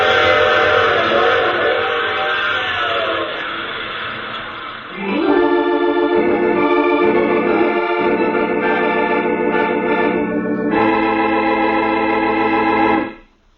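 A train whistle in an old radio drama sounds in long, loud, sustained blasts with a shifting, chord-like tone over a rumbling train backdrop, ending abruptly.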